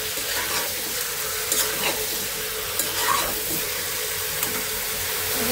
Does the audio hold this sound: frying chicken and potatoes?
yes